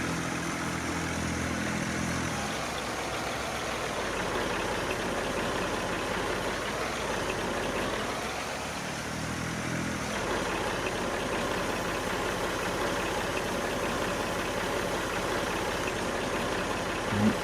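Small tractor engine in Farming Simulator 19 idling and running steadily with a continuous low drone that dips briefly mid-way, heard alone with no talk.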